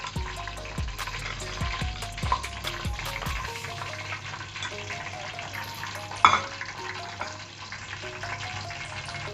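Cumin seeds fry in hot ghee with a soft, continuous sizzle and scattered crackles, punctuated by several metal stirring clicks and one sharp clatter, close by with no voices.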